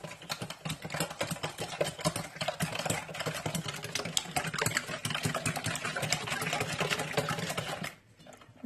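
Eggs and sugar being mixed together for bread dough make a fast, steady mechanical whirring, close and continuous for about eight seconds before it suddenly stops, with no talking over it.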